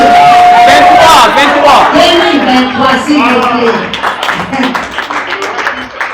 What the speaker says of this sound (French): Est-ce que nous pouvons applaudir?